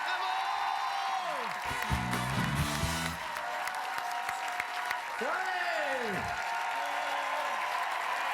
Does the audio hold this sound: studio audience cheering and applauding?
yes